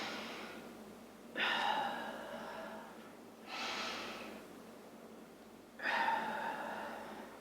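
Slow, deep breaths during a runners' stretch, three audible inhale-exhale swells at a steady, relaxed pace, close and soft with no talking.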